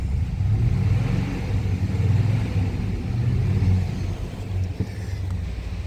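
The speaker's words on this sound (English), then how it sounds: "I first rev it up." A 1997 Chevrolet Suburban engine, running poorly after a mass air flow sensor install, revs with a steady loud low rumble that rises and swells before easing slightly, close by, with no talk.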